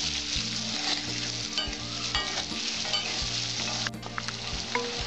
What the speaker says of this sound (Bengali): এর মধ্যে হলুদ, দিয়ে আমি আলুটা লাল লাল করে ভেজে নেব।